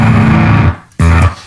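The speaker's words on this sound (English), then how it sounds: "this sound makes it sound like a pedal that has a dying battery" Guitar fuzz pedal with its bias control set for a broken, dying-battery tone: a loud distorted note that sputters and drops out briefly, then returns for another sustained burst before cutting off.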